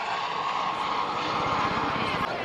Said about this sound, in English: he's flying the Aerospatiale Gazelle, and just watch what he does with this helicopter.